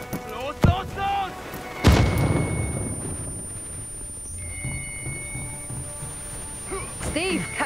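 A grenade explosion in the Marvel's Avengers video game, a sharp, loud boom followed by a rumbling tail, set amid game effects, alarm-like tones and voices speaking.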